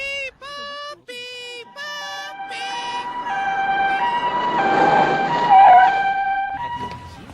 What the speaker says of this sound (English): Oh, another ambulance.